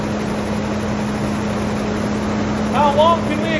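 Engine of a 1966 Imperial Crown, first run in 30 years and running off its fuel pump, holds a steady chattery idle with a constant hum and broadband noise; a voice briefly talks near the end.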